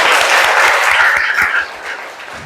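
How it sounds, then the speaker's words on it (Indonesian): A classroom of students claps together, a dense, steady patter of many hands that holds strong and then tapers slightly toward the end, with no talking over it. "Tepuk tangan dulu"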